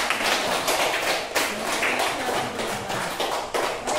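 Classroom audience clapping after students read poems, a fairly steady patter of many hands with a few sharper bursts, close and moderately loud.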